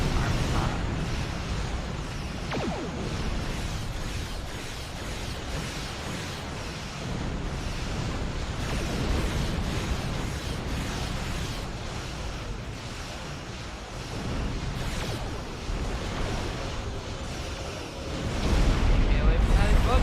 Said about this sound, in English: Stay away from that explosion!